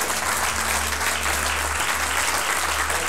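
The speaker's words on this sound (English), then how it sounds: "Give Jesus one more clap offering." A church congregation gives a steady round of applause as a clap offering for Jesus during an Easter musical, the dense clapping continuous throughout, with a low sustained tone underneath.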